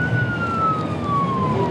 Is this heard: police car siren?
yes